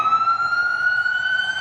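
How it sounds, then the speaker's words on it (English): An emergency vehicle siren wails loud and close as a steady, sustained high tone, with no other sounds. "You hear these damn sirens?"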